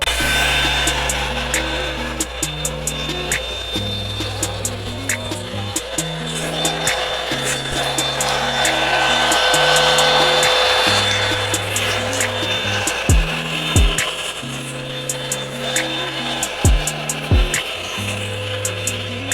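A Revlon One-Step hair dryer blows steadily and loudly while drying hair, its motor drone continuous and close for the whole stretch, with brushing clicks and shifts in airflow as it moves.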